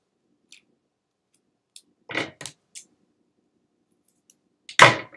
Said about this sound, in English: My scissors are sticking. I need to clean my Cricut scissors.